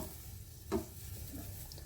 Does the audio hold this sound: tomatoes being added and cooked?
yes